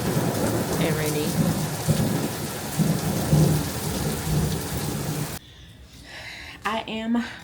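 Heavy rain pours onto a porch during a thunderstorm, a steady loud hiss with deep rolling thunder rumbles, then easing to a quieter patter near the end.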